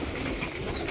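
A pigeon coos softly alongside other birds, a brief faint call set in steady background noise.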